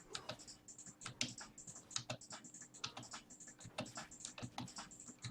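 Rapid, uneven keyboard key presses and mouse clicks while playing League of Legends with Kalista, a close, steady clatter of sharp taps with no voices.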